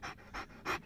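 A dog pants in three quick, close, breathy bursts, each short huff following the last in an even rhythm.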